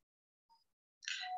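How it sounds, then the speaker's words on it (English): A doorbell sounds in a quiet room: two faint short tones, then a brighter, louder electronic chime ringing out alone. "That's just a doorbell."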